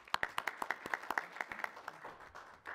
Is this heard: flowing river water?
no